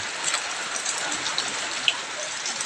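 Steady rain in Subic hisses across the whole clip, a dense broadband patter with occasional louder drops close by.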